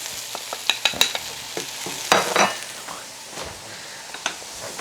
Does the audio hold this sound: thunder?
no